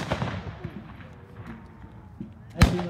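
A reenactment cannon fires at the 2017 Battle of Great Bridge reenactment, one sharp loud boom near the end after a stretch of outdoor crowd noise and chatter.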